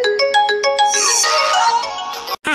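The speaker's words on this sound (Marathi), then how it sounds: "येतो बाबा कोणाचा फोन आहे तो." A mobile phone ringtone plays loudly and up close, a bright electronic melody of quick repeated notes followed by a swirling run, cutting off abruptly near the end with a brief tail after the gap.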